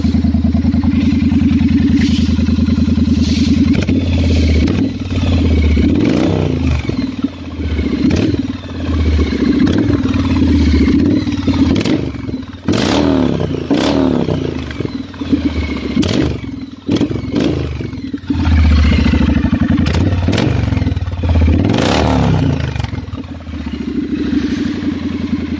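A Triumph T100 motorcycle fitted with an oversize header exhaust, idling with a deep thump and blipped through a series of sharp revs, loud and close with no talk.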